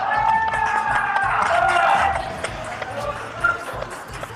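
A crowd at a fitness competition cheers and whoops in the distance, a roar that is strongest in the first two seconds and then eases into scattered shouts over a low rumble.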